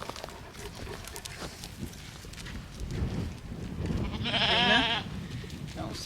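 Sheep on a farm with a single wavering bleat rising near the end, over a busy background of rustling, shuffling and low murmuring.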